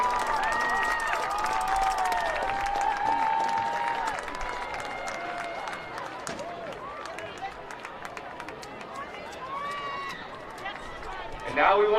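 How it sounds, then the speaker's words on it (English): Crowd applause at a high school football game between Shortridge and Chatard, a broad wash of clapping and cheering in the stands with a PA announcer's voice and tonal sounds over it, tapering slightly before a louder burst at the end. "Give them all another round of applause."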